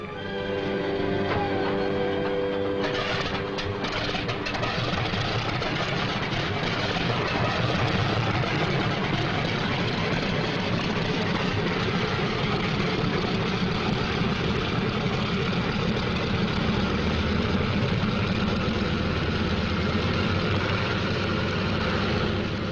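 Fighter plane engines drone steadily before takeoff, a loud sustained low roar that holds throughout with no talk.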